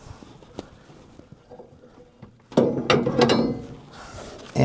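Metal clanks and scrapes as a 4-way splitting wedge is pulled out and a 6-way wedge dropped into a Japa 315 firewood processor in snow and ice, with a quiet lead-in followed by a loud, close burst of clattering metal.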